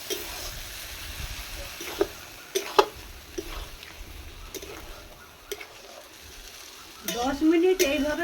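Chicken sizzling and frying in a wok with intermittent scraping and clinks of a stirring spatula, close by, and a voice briefly speaking near the end.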